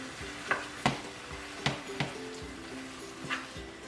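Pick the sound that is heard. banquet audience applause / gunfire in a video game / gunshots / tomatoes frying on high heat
tomatoes frying on high heat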